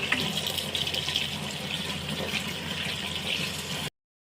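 Tap water runs over hot ingredients being rinsed for homemade juice, a steady close gushing flow that stops abruptly near the end.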